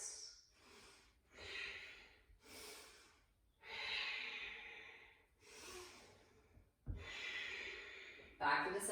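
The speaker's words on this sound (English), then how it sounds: "Deep Ujjayi breaths" Deep Ujjayi breathing during a yoga flow, slow drawn-out inhales and exhales with a breathy, ocean-like rasp, repeating steadily and close.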